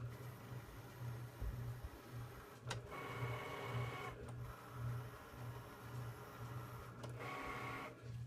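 A Cricut Explore One cutting machine cuts a label, giving a steady close mechanical whir with a low hum and brief motor bursts as the carriage moves back and forth.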